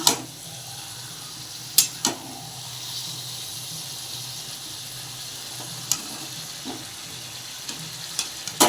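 Cabbage and catla fish head frying together in a pan, a steady close sizzle with occasional sharp clinks of a spatula against the pan.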